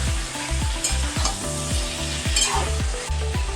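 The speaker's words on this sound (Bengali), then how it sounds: "চিকেনটা একটু ভাজা ভাজা হয়ে গেছে" About 700 grams of chicken coated in turmeric and salt fries in a pan, with a loud continuous sizzle and repeated scraping strokes as it is stirred.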